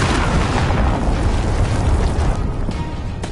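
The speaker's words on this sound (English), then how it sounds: "Enemy cruise missile incoming!" A loud cruise missile blast in a Call of Duty Modern Warfare match, a heavy booming roar that fills the whole clip and fades slightly at the end.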